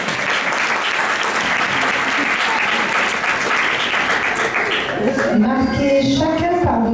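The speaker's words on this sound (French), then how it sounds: "Allez, on applaudit." Wedding guests at a lay ceremony reception at Casa Perla applaud Sébastien with steady, dense clapping, close and lively, before a voice begins speaking near the end.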